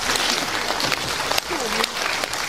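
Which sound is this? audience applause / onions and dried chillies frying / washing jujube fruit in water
audience applause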